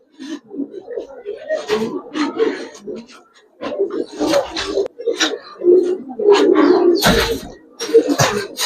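Pigeons at a pigeon market, among them a female, coo in a steady murmur of soft, throaty, repeated calls from close by, with people talking and sharp knocks scattered throughout.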